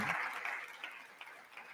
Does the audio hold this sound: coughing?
no